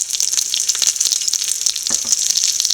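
Turmeric, garam masala and curry leaves sauté in a hot pan with a close, steady bright sizzle, broken by frequent short scrapes and clicks of a spoon stirring, with no talking.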